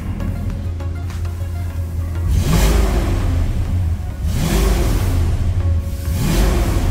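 A Ford Maverick V8 four-door revs in repeated swells, two loud bursts of engine roar rising and falling over a steady idle rumble, close by.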